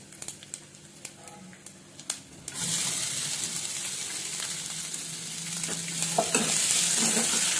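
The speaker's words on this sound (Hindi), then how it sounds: "इसके बाद हम डालेंगे 1 कटा हुआ ओनियन।" Chopped onion dropping into hot oil bursts into loud, steady frying about a third of the way in, preceded by a few light clicks and stirs, then continuous close sizzle with occasional scraping stirs and no speech.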